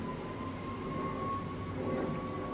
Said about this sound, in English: Do you hear the siren though?